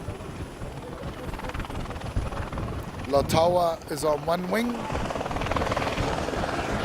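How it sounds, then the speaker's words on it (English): A helicopter departs over a rugby ground during an East Coast versus Poverty Bay match. Its steady rotor drone holds throughout the clip while a commentator talks over it. "as the ECT helicopter leaves."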